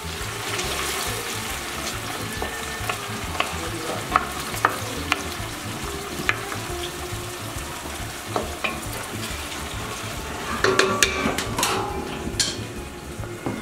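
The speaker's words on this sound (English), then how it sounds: "that garlic and olive oil and onions and sauteing" Garlic and onions sauté in olive oil for a Bolognese, a steady close sizzle with repeated scrapes and clinks of stirring, a brief burst of louder stirring near the end, no talking.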